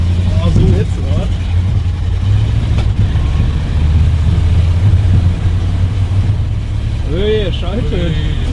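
A Ford F250 V8 pickup truck drives along, its low engine rumble and road noise steady and close throughout, with people talking over it inside the cab.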